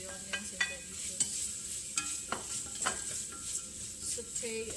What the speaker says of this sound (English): saute everything until it's totally translucent